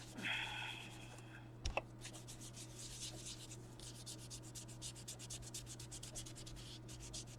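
Vintage Photo ink rubbed onto a paper tag with a blending tool, a faint, steady, rhythmic scrubbing of soft strokes close by, with a low hum in the background.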